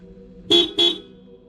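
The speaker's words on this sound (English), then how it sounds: "The campers honked their horn over and over, trying to drive it out." A car horn blares twice in quick succession, loud and close, two short honks sounded by campers trying to scare off a lion, then quiet.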